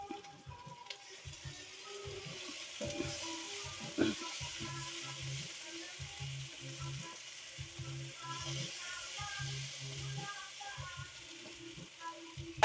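Garlic, onion and tomato sautéing in a pan for binagoongan monggo, a steady close sizzle with stirring scrapes and small clatters running throughout, no talk.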